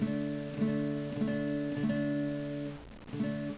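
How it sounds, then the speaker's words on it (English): An electric guitar power chord on the top four strings, low string muted, is strummed several times in a steady rhythm, ringing full and clear between strokes, with no talking. "so it sounds like this when you strum the top 4 strings"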